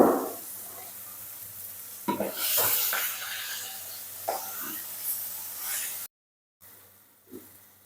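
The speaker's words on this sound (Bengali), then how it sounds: "নদী মাছ এত ফাটছে কেন কে জানে।" River fish (bhola) frying in oil gives a crackling sizzle with bursts of spattering pops and utensil scrapes, loud at first. There is a short silent gap near the end, followed by a single pop.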